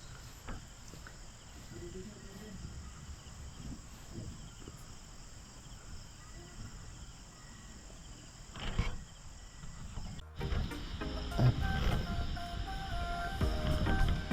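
Night insects, likely crickets, chirp in a steady, fairly faint wash around a riverside campsite at Lagaslas, Pagsanjan, Laguna. A louder, busier stretch of sound comes in partway through, and no voices are heard.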